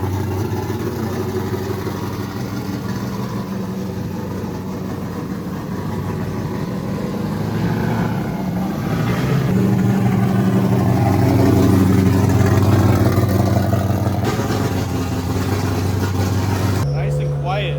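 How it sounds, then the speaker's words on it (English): A Formula Drift car's engine runs steadily with low mid-frequency rumble, swelling into a louder rev partway through before easing back, heard close up at the event alongside people talking nearby. "Car's running good."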